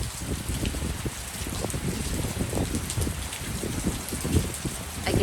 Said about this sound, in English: I can actually see the rain blowing off the roof of the school across the street.